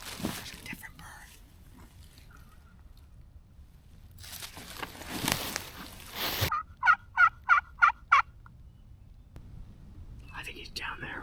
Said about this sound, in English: Turkey gobbling behind me.